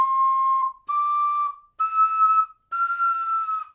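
A high ocarina note blown without abdominal support, heard as four steady held tones, each followed by a short gap. Each tone sits slightly higher than the one before, close and clear with no talking.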